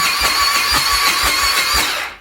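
A Can-Am ATV engine with a weak starter cranks over in steady, regular pulses about twice a second, loud and close, with no voices and no firing.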